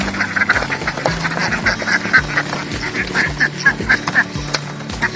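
Ducks at a small rural duck farm quack repeatedly in an uneven chorus of overlapping calls, close by and fairly loud over a low background.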